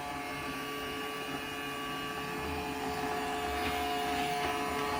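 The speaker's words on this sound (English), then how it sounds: "All right, nice job, Five Below vacuum." A small Five Below robot vacuum runs with a steady, quiet motor hum and a faint whirring whine. The sound stays even and constant with no talking over it.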